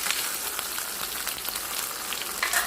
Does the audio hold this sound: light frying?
yes